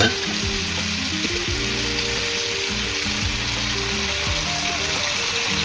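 Small aromatics, two slices of ginger and a short piece of scallion, stir-fried in a pan, producing a continuous bright sizzle with light stirring, while soft tonal music plays underneath.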